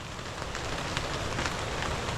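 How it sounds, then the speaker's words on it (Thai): Heavy rain pours down steadily outdoors at a forest camp during a wild boar hunting trip, a dense, even wash of drumming drops that stays constant throughout, with no voices. "ฝนนี่ ตกหนักเลยมื้อนี้"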